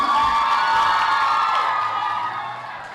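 A large audience cheers, whoops and claps loudly for the pageant finalists at the Bujang Gadis Kampus Universitas Bina Darma 2023 grand final, a roaring crowd that slowly fades toward the end.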